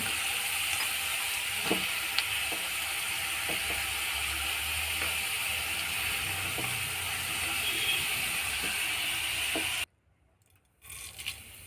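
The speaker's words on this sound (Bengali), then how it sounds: "একটু সাদা জিরে আর চামচ ফোড়ন দিয়ে দিলাম তিনটে কাঁচা লঙ্কা ফোড়ন দিয়ে" Cumin seeds and green chillies crackle in hot oil with a steady sizzle and scattered small pops, then cut off abruptly near the end with only faint rustling after.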